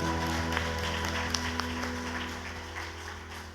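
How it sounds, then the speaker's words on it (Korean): Worshippers at a church praise gathering applaud in thanks, a soft steady clapping from a crowd over a sustained organ or keyboard chord that hums underneath throughout. "감사의 박수로 영광 올리겠습니다."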